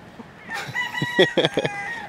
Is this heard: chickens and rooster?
yes